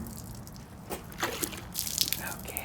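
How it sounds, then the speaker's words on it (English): A windshield glass is dipped into hot, soapy water, giving irregular splashes, trickles and sloshing that build toward the end, fairly close and moderately loud. "dipping it down in our hot water"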